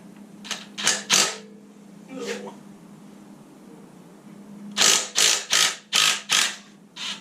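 A ratchet removes bolts from a Ford Pinto with short bursts of sharp clicking up close, a few strokes early, a pause, then a quick run of rapid clicks near the end.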